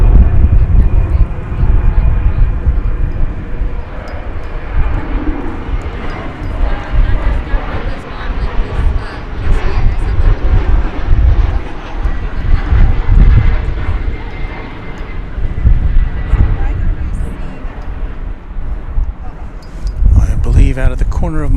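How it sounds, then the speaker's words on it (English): An American Eagle Embraer 175 airliner at DFW Airport gives a loud, continuous engine roar with wind rumble, with a person talking over it throughout. "here is one. It's another American Eagle plane."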